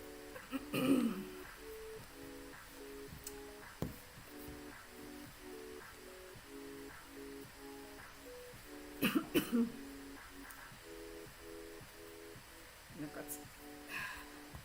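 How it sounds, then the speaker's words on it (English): A few sharp coughs, one early, a pair in the middle and one near the end, over a faint repeating tonal hum. "I've got a frog in my throat now for whatever reason. A froggy. That's making me cough."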